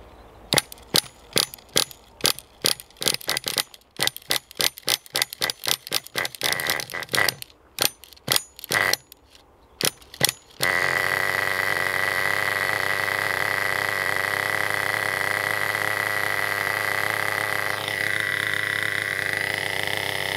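A nitro RC car engine from FTX sputters through a series of sharp pulling-start bursts, then catches and runs at a loud, steady buzzing idle that dips briefly in pitch near the end.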